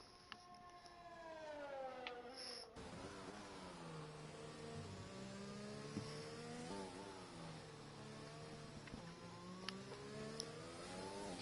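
An F1 race car on a hot lap at Silverstone in the F1 2020 video game, its high-pitched engine screaming and shifting pitch as it revs up and down through gears, steady and fairly faint throughout.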